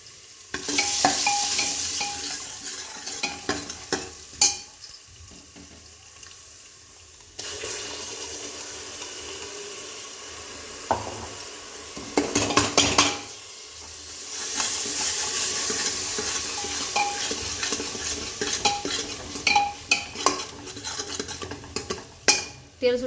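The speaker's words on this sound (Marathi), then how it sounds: "तेल सुटेपर्यंत आपण त्याला परतून घेणार आहोत." Chicken masala with a little turmeric sautéing and being stirred in oil for a village-style chicken rassa, with a steady sizzle, scraping stirs and occasional clinks of a utensil against the pot, no talk.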